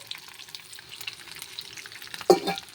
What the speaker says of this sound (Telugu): వెల్లుల్లి ఎండుమిర్చి పచ్చిమిర్చి కూడా వేసేసుకున్నాం ఇవి కూడా బాగా ఫ్రై అవ్వాలండి